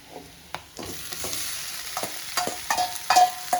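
Squeezed beans and onions stirred in a frying pan, a low sizzle under a few sharp scrapes and clinks of the spoon against the pan, close by and without any talking.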